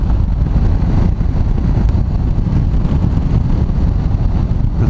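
Steady broadband wind rush buffets the microphone throughout an outdoor ride through open rural Nebraska and Kansas countryside, loud and continuous with low rumbling gusts and no speech.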